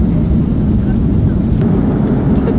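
Passenger jet taking off, heard from inside the cabin as a loud, steady low roar of engines and rushing air filling the whole stretch, with no clear voices.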